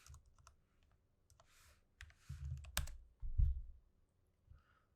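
Bursts of typing on a computer keyboard, quiet clicks in short runs separated by pauses, with a couple of louder thumps near the middle, close and alone.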